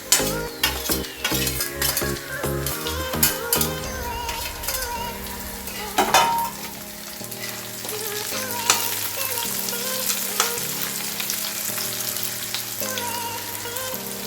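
Onions sizzle in a pan for kanda poha while a spoon scrapes and stirs them in uneven bursts, a close crackling fry that steadies toward the end, with no talk.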